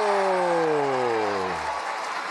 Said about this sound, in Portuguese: A torcida vai à loucura